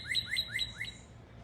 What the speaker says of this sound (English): these birds are pissed